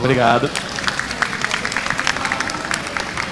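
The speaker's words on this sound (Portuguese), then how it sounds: "uma salva de palmas, por favor" An audience at a games-journalism talk at a Campus Party Recife event breaks into steady, sustained clapping right after a brief spoken thanks, filling the hall for several seconds.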